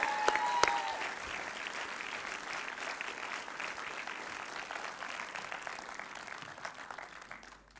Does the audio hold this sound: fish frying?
no